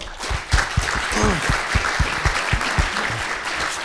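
Applause from a seated audience at an indoor event, a dense patter of clapping with a few louder claps, steady and fairly close throughout.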